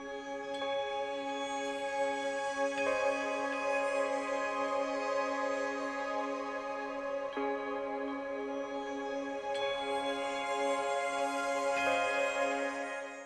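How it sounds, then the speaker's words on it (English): Gentle festive Christmas music from the video game Wayfinder with sustained bell-like tones and soft chimes, playing quietly and continuously with no speech. "So what you just heard is they've put festive music in."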